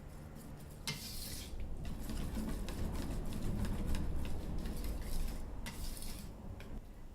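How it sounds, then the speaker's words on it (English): A whisk stirring chocolate ganache in a bowl gives a soft continuous swishing and scraping with light clinks against the sides. The sound is close and steady. "just stir until it's all combined"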